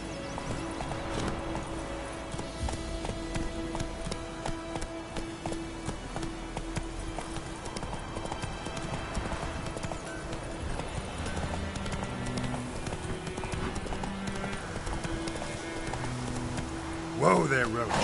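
Horse hooves gallop in The Witcher 3 with a steady clip-clop beat, joined by a whinny, over game music and ambient sound, with a brief louder burst near the end.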